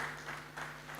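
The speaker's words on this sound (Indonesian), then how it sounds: "Berikan tepuk tangan buat GBDI." A church congregation applauds, producing steady, soft clapping that sounds distant and continues without pause for about a second.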